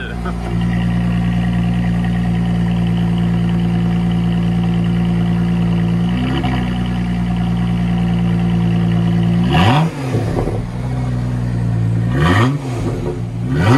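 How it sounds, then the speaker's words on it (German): A Lotus car engine idling steadily with a deep, even hum that runs throughout, broken later by a few sharp revs and surges before it settles again. "Lotus läuft."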